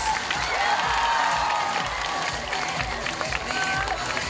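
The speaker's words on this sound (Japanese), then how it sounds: "皆様改めて大きな拍手お願いします" Applause from a packed morning audience at a stage greeting for the film The Fable with cast and director, a loud sustained roar of clapping and crowd noise with faint voices mixed in.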